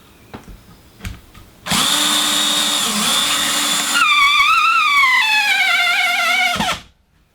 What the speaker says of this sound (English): come back and put my screw in, just to make sure that I actually get into the stud